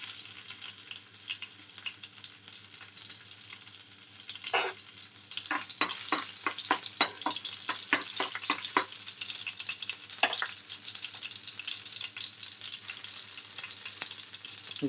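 Chopped green chilies go into hot oil with fried whole-spice tempering, giving a steady bright sizzle. A burst of stirring clatter and crackling comes in the middle, then the frying hiss carries on alone.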